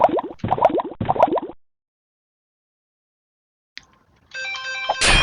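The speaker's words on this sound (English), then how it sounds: "we'll have to answer the phone call" A phone begins ringing near the end with a bright, tonal ringtone. It is preceded by a few quick chirpy bursts, then a long stretch of near silence.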